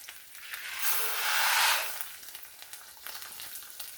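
Orzo frying in oil in a pan while being stirred, a broad steady sizzle that swells to a louder hiss in the middle and then settles back, with a few faint scraping stir sounds near the end.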